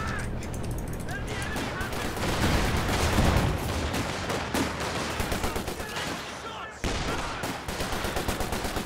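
Bren gun and rifle fire crackle in rapid bursts during a Company of Heroes 2 infantry firefight, dense and continuous, with a commentator talking over the shooting.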